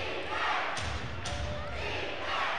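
Crowd roaring in a basketball arena during a tied NBL Canada game between the Cape Breton Highlanders and London Lightning, a loud continuous wash of cheering with a couple of dull thuds.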